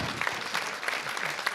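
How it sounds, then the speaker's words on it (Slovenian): Audience applause for Slovenian freestyle skiers at a ski federation press conference, steady dense clapping throughout with small peaks, moderately loud and sustained. "Hvala lepa in velik aplavz za naše smučarje prostega sloga"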